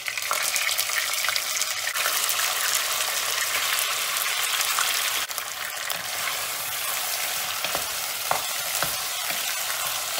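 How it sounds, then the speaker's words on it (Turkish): Meat sautés in hot oil in a pot with a dense, continuous sizzle, close and steady, easing slightly about halfway through. Occasional small pops and stirring clatters break the hiss, and no voices are heard. "Kavurma işlemine devam edeceğiz."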